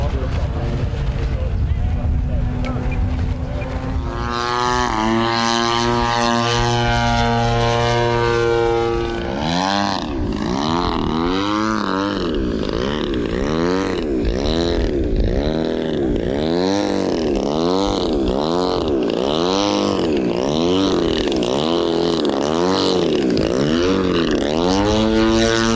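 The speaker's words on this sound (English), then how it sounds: "Nice flight, Alfie." A radio-controlled model airplane flies at a kids' RC fun-fly event, its engine or motor whining steadily and swooping up and down in pitch as it passes repeatedly overhead, loud and continuous with wind and crowd noise.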